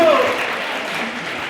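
An audience claps steadily to welcome guests at a school awareness programme on child marriage at GHS Borabanda, with a voice speaking over the close, dense applause throughout.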